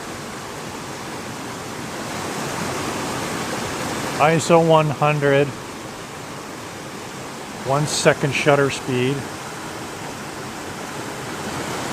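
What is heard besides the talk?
waterfall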